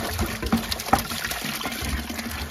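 Water poured from a bucket into a rusty Royal Enfield motorcycle petrol tank, a steady close trickling and splashing that fills the whole moment without speech.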